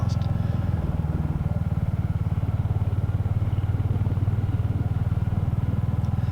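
A Royal Enfield Hunter motorcycle with big tyres rides along wet roads, its engine thrumming in a steady, close, continuous drone with a faint hiss of spray beneath.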